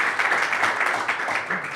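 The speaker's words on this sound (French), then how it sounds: "Eh bien, on peut applaudir." A crowd applauds at a local gathering in Barbezieux, steady mid-level clapping from many hands throughout, with faint voices mixed in.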